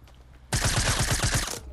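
Rapid burst of automatic gunfire in the Fortnite video game, about nine quick evenly spaced shots in just over a second, loud and close, with no talk over it.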